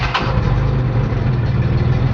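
A truck engine idles steadily in neutral, a continuous low rumble close by that holds even throughout with no voices over it.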